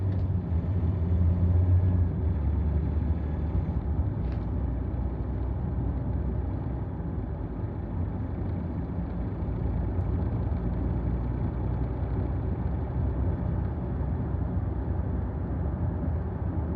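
A car's engine runs steadily while driving, a constant low rumble with road noise close by, unbroken and without talk.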